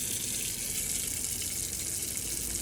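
Hot water runs steadily from a tap in a Rollerteam 694 motorhome, a continuous, even splashing gush heard up close with no talking.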